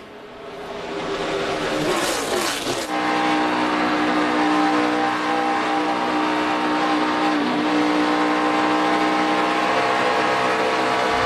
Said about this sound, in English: When we're right on board with guys and hear them working that throttle, especially as the tires wear.